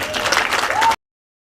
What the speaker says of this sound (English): a round of applause for mothers.